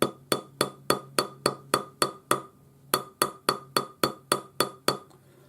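Steady hammer blows texture a metal surface near and loud, about fifteen sharp ringing strikes in quick even runs with a short pause midway.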